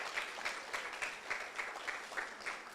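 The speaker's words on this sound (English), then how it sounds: "Let's give them a round of applause." Brief applause at a high school ribbon-cutting ceremony, fairly faint and distant, with a rhythmic pulse suggesting a small group clapping roughly in unison.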